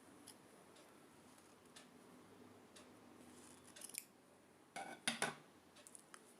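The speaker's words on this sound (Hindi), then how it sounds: "इसे कैंची से काट लेना है।" Scissors snip through crochet yarn after a knot is tied, giving a couple of short, crisp cutting clicks close by against a quiet room background.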